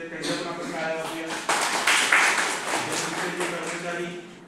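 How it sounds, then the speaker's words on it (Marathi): An audience at a vocational training center claps for its trainer, dense steady applause running for several seconds alongside a talking voice. "त्यांच्या पण आपण टाळ्या वाजवूया"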